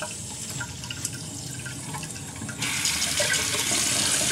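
Tap water runs into a bathroom sink during a shave, first as a steady trickling flow, then abruptly louder and harsher as the stream strengthens, close to the microphone with no talking.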